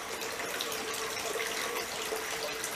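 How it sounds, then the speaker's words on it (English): Rainwater flowing by gravity during a rainstorm beside a full pond, a steady close trickling and splashing rush of water that holds even throughout, with no voices. "here we are in the middle of the rainstorm. So, water's flowing by gravity."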